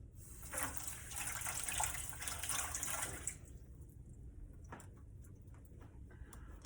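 Tap water runs steadily over shrimp being rinsed for ceviche, a loud, close splashing rush that stops about halfway through and leaves quieter handling sounds.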